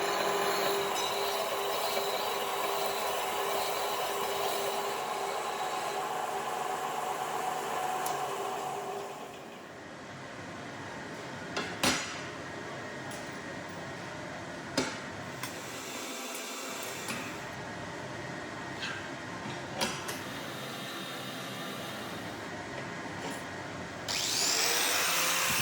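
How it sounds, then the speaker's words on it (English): Wire wheel or grinder scrubbing burnt oil scale off forged steel from a large bearing: steady loud whirring abrasion that drops away, followed by quieter scraping with sharp intermittent clicks and knocks. "I'm cleaning off the burnt oil scale with a wire wheel or grinder to see the surface"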